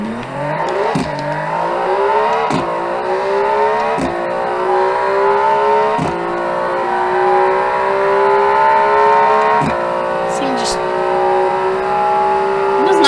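A 700 horsepower track car in a driving video game accelerates flat out on a top speed run. The engine note climbs steadily and is broken by several gear shifts, loud and continuous with no talk.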